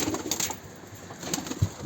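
Soft pigeon coos close by over a faint background hiss, brief and low, with no speech.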